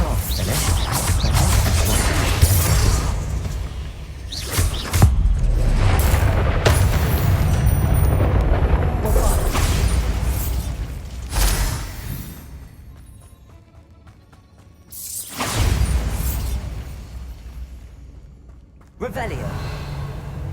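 The Bombarda explosion spell in Hogwarts Legacy sets off heavy booming blasts with whooshing swells and crashing debris, broken by quieter gaps between loud bursts.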